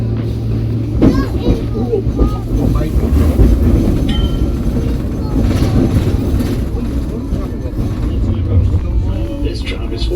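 A tram ride in Manchester rumbles and clatters along the rails with a low, continuous hum, while people talk nearby and children's voices mix in.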